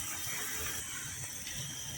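Hot cooking water is poured into a pot of black-eyed peas and rice, a faint, steady splashing flow lasting a couple of seconds.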